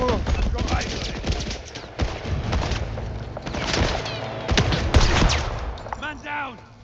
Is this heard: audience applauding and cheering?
no